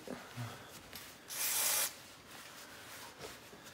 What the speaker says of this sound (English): This is a normal brake cleaner, just removing all grease